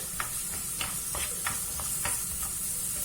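Onions cooking in a pan, stirred with a series of light, evenly spaced scrapes of a utensil over a quiet, continuous hissing sizzle, fairly soft and close, with no talking.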